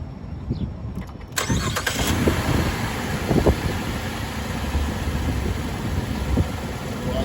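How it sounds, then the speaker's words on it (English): A 2012-2020 Chevy Impala engine cranks and catches, then settles into a steady, rough idle that rumbles close by at moderate loudness. "let me go ahead and crank the car"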